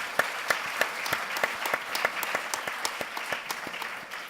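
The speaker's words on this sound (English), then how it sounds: "One more round of applause for our student presentations." Applause from an audience for student presentations at a youth dialogue event: a few seconds of moderate, steady clapping with distinct individual claps, heard without talk.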